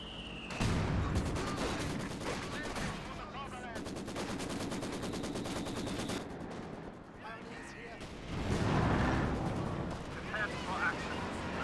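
Heavy battlefield fire from a Company of Heroes 2 match, a Panzer IV artillery barrage among it: dense rattling volleys and booming impacts roll on continuously, with a commentator talking over the din.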